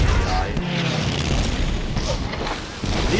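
Practical explosion effects from the Pearl Harbor attack scenes in Battleship Row, a dense rumbling roar of booms and blasts that stays loud throughout, with a brief dip near the end.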